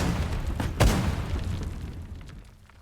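An artillery shot in the video game Mortal Online 2, a single deep, heavy boom that rolls out and slowly fades.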